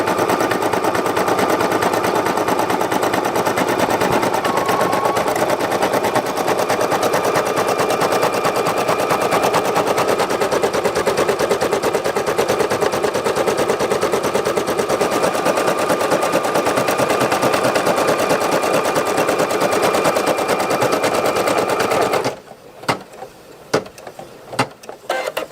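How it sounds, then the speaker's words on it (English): Embroidery machine stitching a thick felt patch, a loud rapid mechanical rattle running continuously for about twenty-two seconds before stopping abruptly, followed by a few faint clicks. "Finished embroidering."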